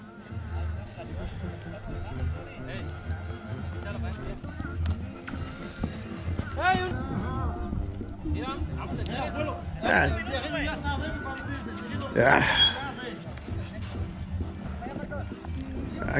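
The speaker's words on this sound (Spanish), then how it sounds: "qué chulo caballo" Horse hooves clip-clop at a ranch event, a steady stream of hoofbeats under ongoing crowd chatter and voices, with a louder burst of activity near the end.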